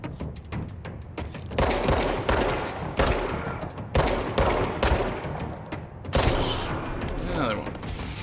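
Rapid gunfire from the video game Control, with bursts of shots and impacts recurring throughout under intermittent talk, fairly loud and close.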